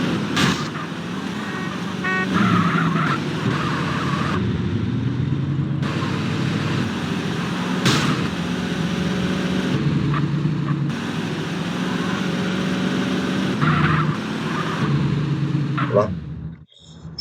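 A car in the video game GTA San Andreas drives hard with a steady engine roar, horn toots and brief screeching bursts, while a player talks over the gameplay.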